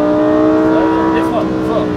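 A Lamborghini Huracan STO accelerates on a racetrack, its engine droning loudly and steadily under an instructor's continuous talking, with the pitch shifting slightly as it pulls.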